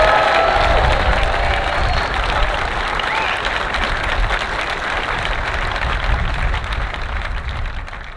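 A large golf crowd at The Open at Hoylake applauds a player's introduction on the first tee. Dense, loud clapping runs continuously for several seconds and fades slightly toward the end, with some voices in the crowd.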